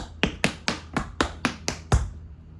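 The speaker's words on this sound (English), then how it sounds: "Here you'll see brush, scuff, brush, a riffle or open third." A tap dance paddle and roll in a four-sound pattern, played as a quick even run of about eight sharp, crisp metallic taps on a hard floor, with the last tap heavier, close and clear with no voices.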